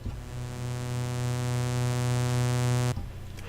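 A synthesizer sustains a buzzy, harmonically rich tone set to a long envelope attack, slowly swelling toward full volume over a few seconds before stopping abruptly, with no voices.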